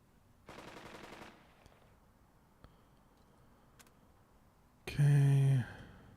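Bursts of gunfire from the war strategy game Burden of Command: a rapid crackling volley early on, a few scattered isolated shots, then a loud, harsh, dense burst near the end, with faint background noise in between.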